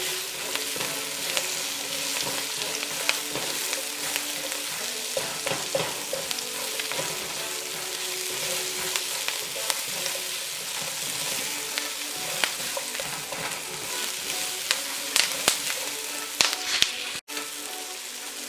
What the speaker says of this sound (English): Now let's drop the onion.